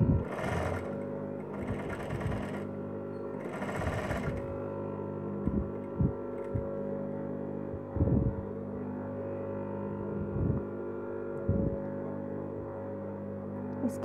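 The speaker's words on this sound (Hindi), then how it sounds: "अब इसकी दूसरी साइड से मैं सिलाई लगाती हूँ।" A sewing machine stitches a child's frill frock, running in three loud rapid bursts early on, then falling to a low steady hum broken by occasional soft clicks and thumps.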